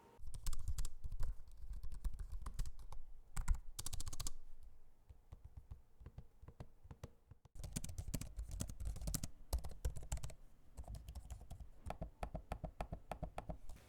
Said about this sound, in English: the keyboard and the trackpad. I want you to be able to hear them for yourselves.